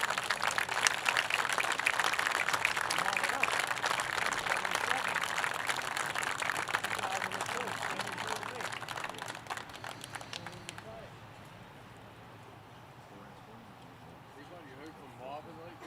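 Applause for a firefighter's family at an FDNY football game, a broad crowd clapping with scattered sharp claps for about ten seconds before fading into quieter outdoor ambience and voices.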